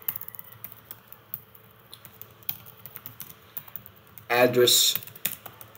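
Typing a search query on a computer keyboard, with light key clicks scattered through the clip under a speaking voice and a louder burst of keystrokes near the end.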